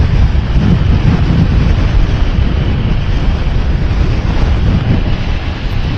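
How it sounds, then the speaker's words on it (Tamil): Strong coastal wind near the southern Tamil Nadu sea by a windmill area, roaring loudly and continuously as heavy buffeting across the microphone with no letup. "பக்கத்தில் கடல் இருக்கிறதுனால காற்று ரொம்ப ஓவராக இருக்குங்க"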